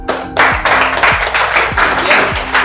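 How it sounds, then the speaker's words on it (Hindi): An audience claps on cue, a burst of close applause that starts abruptly and keeps going at a steady level, with low rhythmic thumps running underneath. "भाई के लिए तालियां हो जाए।"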